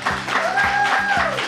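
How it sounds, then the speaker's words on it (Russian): An audience applauds a contestant at a school quiz show, a brief burst of moderate clapping with a faint tone sounding underneath. "Аплодисменты Кате."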